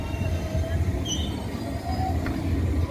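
New York City Subway R188 7 local train at 90th St Elmhurst, a steady rumbling roar of rolling cars with faint wheel squeals and hiss, continuous and fairly close throughout.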